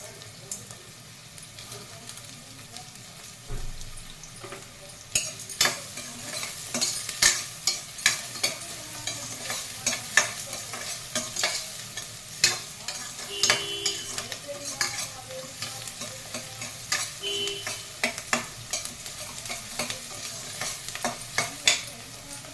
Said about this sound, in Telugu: ఆనియన్ కొంచెం ఫ్రై అయ్యాయి కదా, కొంచెం ఇలా ఫ్రై అయితే చాలు, సరిపోతాయి